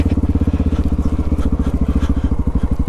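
A Honda XR650L dual-sport motorcycle lugs along an off-road trail at low revs, its single-cylinder engine thumping in a fast, steady, loud rhythm close to the microphone for the whole stretch.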